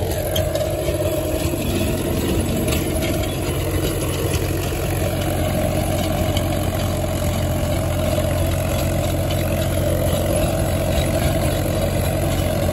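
Mahindra 265 DI tractor engine running steadily with a 7-foot rotavator attached, a loud, constant low diesel rumble with clattering implement noise throughout, no talking.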